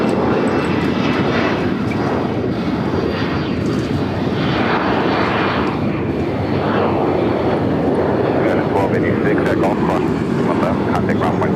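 A Hawker business jet takes off from the south side of LAX in challenging weather, its engine roar loud and sustained across the whole stretch, with voices talking over it throughout.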